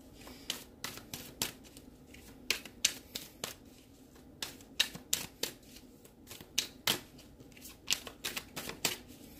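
Tarot cards being shuffled by hand, a quick series of crisp riffling snaps and flutters in irregular bursts, close and fairly quiet with no talking.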